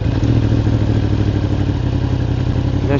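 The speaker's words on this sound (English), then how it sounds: "So now we're gonna switch on the bike." A Yamaha R1 RN65 motorcycle engine starting and settling into a steady, loud, close idle with a low rumbling clatter, heard outdoors on a road with no one speaking.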